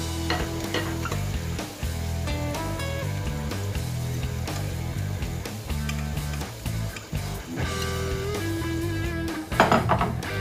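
Tomato frying in a frying pan for a pork sandwich, with stirring and occasional clinks of utensil on pan, sizzling beneath loud background music.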